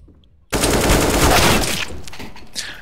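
Sustained burst of rapid automatic gunfire in Counter-Strike: Global Offensive, loud and close, starting abruptly and running for about two seconds before tailing off, with a few faint later shots.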